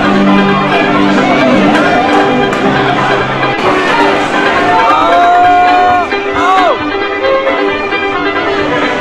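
A party crowd cheers loudly after a sung performance at a Christmas party, a sustained roar of whoops and shouts with whistles and voices rising above it.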